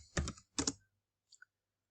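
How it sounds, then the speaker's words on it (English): Keys on a computer keyboard are tapped in two quick bursts of close clicks, followed by a couple of fainter single taps in an otherwise quiet room. "Let me just type in free website."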